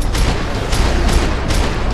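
Gunfire in the video game Max Payne 3, loud close shots landing in a quick irregular burst of four or five booming cracks over a dense background rumble.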